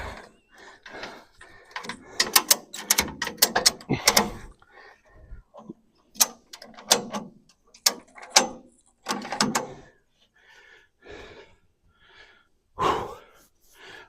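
Ratchet strap being tightened on a trailer load: a series of quick clicking ratchet pulls in uneven bursts, close by, with pauses and some breathing between strokes.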